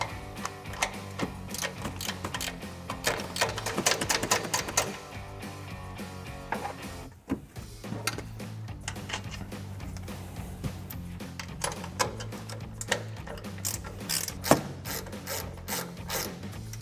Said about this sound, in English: So we'll take a 14 millimeter ratcheting wrench